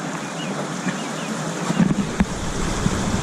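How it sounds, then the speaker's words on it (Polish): Steady broadband rush of clear snowmelt water streaming nearby, with a few soft low bumps partway through. "zobaczymy sobie jak śnieg topnieje słuchajcie ile wody spływa czyściutkiej, krystalicznej"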